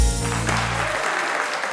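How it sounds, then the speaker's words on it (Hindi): Studio audience applause welcoming cricket star host Ramiz Raja onto a talk show stage, loud continuous clapping with music fading out beneath it at the start. "ख्वातीनो हजरात, भरपूर तालियों में इस्तकबाल कीजिएगा।"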